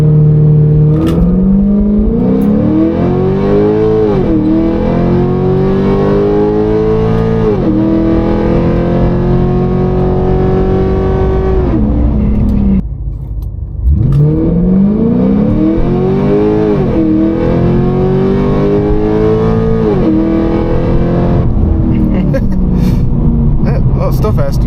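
A tuned Pontiac G8 launches hard from the brake twice, the engine revving loudly and climbing through gears with rising pitch sweeps and a short pause between the runs.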